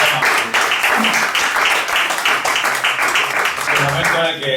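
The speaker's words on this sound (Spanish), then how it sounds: "Bueno, pues habrá que aplaudirme" An audience at a radio book event gives the speaker a steady round of applause, with loud, dense clapping throughout.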